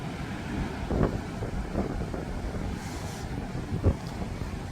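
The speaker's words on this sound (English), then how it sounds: "We are getting some southeasterlies at the moment, so they're blowing straight at us here, so you might be getting some wind noise through." A southeasterly wind gusts straight into the microphone on a beach, giving a steady low rumble with a few sharper buffets and no voices.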